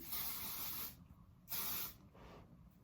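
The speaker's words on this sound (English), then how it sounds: "So we're gonna spray this on every section." Two bursts of heat protectant hair mist hiss close by, the second followed by a fainter third puff, with brief quiet between them.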